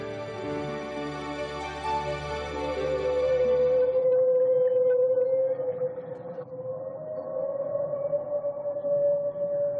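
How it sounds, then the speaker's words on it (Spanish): Humpback whale song in a coastal inlet: long, eerie moaning tones that slide slowly in pitch, a lower drone dropping out midway and a sustained wavering cry continuing alone. "Estos extraños sonidos también los emiten las ballenas jorobadas."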